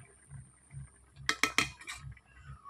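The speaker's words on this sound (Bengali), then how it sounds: "মাছগুলোকে এইভাবে আমি নেড়ে নিচ্ছি।" Rui fish is stirred in a pan. A few quick metallic clinks of a utensil against the pan sound close together in the middle of a quiet moment, with a faint low hum underneath.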